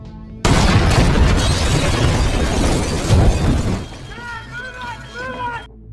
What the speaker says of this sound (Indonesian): gudang itu pun meledak, sehingga membuat Liam dan keluarganya panik.